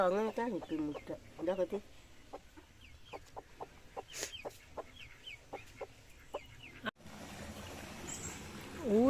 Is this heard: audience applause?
no